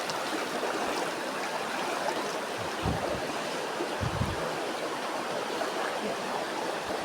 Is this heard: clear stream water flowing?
yes